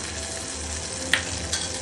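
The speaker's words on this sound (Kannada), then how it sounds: "ಒಗ್ಗರಣೆಯನ್ನು ಚಟ್ನಿಯನ್ನು ಹಾಕ್ತಾ ಇದ್ದೀನಿ" Hot tempering poured into coconut chutney in a bowl crackles and sizzles steadily, with a brief sharper pop midway and another near the end, close and alone.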